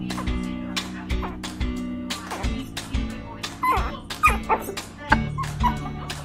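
A dog growls and whimpers in short, repeated grumbling bursts close by, mixed with yips, while a person talks to it.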